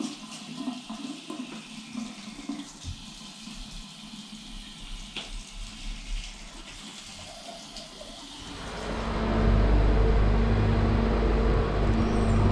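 Water from a hostel shower begins running partway through, after quieter room ambience, then becomes a loud, steady rushing hiss that continues to the end.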